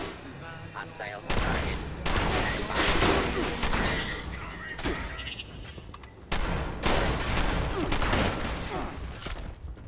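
Shotgun blasts from Fallout 76 in a dense volley, with loud sharp bursts, a gap, then a second run of closely spaced shots near and harsh, with no voices over them.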